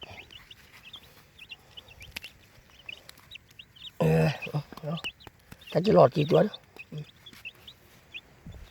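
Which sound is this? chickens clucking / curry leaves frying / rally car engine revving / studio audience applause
chickens clucking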